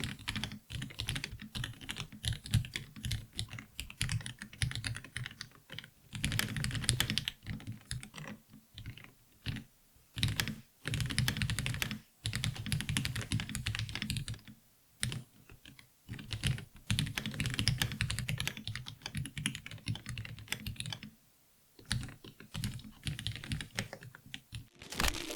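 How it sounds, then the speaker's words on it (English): Fast, continuous typing on a budget low-latency computer keyboard with red or fast silver switches: quiet, close key clicks in dense bursts with brief pauses, running for about twenty-five seconds without speech. "Oh, I'm typing with my keyboard."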